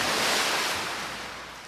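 Ocean surf from the Indian Ocean in a cartoon scene, a broad steady wash of waves that stays loud and close and eases off slightly toward the end, with no voices.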